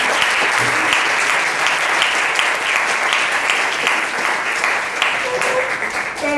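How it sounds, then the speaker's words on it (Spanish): Audience at a university sociology talk on gender violence breaking into loud, steady applause that holds for several seconds before starting to thin out. "fuerte aplauso de una vez a las..."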